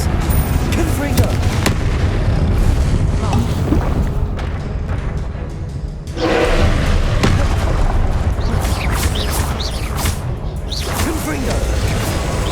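Confringo blasting spells go off in Hogwarts Legacy, loud booming explosions and whooshes over a dense, constant battle din, with spoken incantations in between.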